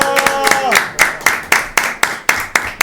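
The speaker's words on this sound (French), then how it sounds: "Je vous demande d'applaudir tout de suite Cyril Verdès" Studio audience at a French TV show clapping for an arriving guest, a run of sharp, evenly spaced loud claps, with a brief tonal note early on.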